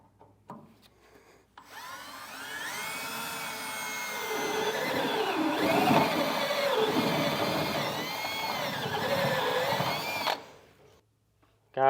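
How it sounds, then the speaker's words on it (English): A drill bores a hole through the metal frame of a truck bed while base rails are installed, a loud, steady whine with shifting pitch that runs about nine seconds before stopping, heard alone. "it makes it a lot easier drilling through the frame like this"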